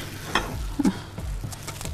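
Soft sizzling and crackling of cheese-filled dızmana dough frying in hot oil and sticking to the pan, with a few light clicks and scraping sounds nearby.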